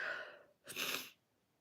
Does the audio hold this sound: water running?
no